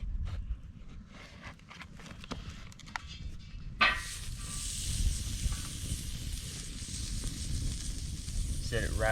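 Meat searing over an open fire on a farm, a steady hiss and sizzle that swells louder partway through, with faint crackles and brief knocks before it.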